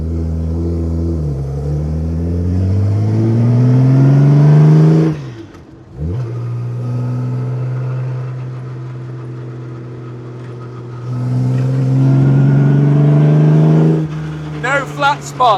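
An original 1950s factory works Jaguar D-type race car engine revs hard and close, pitch climbing, then dropping to a steady idle before revving up again, loud and raw throughout.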